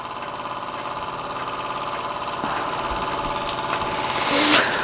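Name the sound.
small model marine steam engine running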